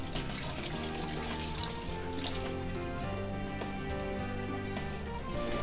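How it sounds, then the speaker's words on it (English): Running water pours steadily while the cavity of a whole fish is rinsed, a continuous close splashing flow with no talk. "Then rinse the cavity of the entire fish thoroughly."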